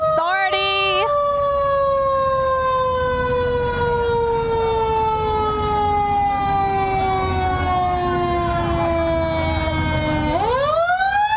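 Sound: ambulance siren passing in a parade

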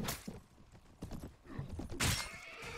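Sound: horse in the video game Mount and Blade

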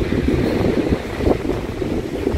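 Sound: wind at the beach

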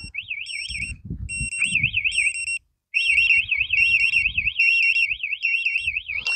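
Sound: TASSLOCK bike anti-theft alarm sounding on the remote

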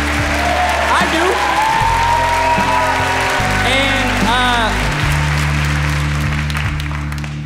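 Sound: audience applause

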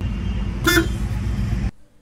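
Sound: stock horn of a Tata Yodha 2.0 pickup

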